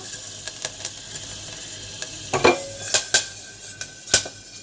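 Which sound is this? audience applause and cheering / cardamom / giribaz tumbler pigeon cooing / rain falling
cardamom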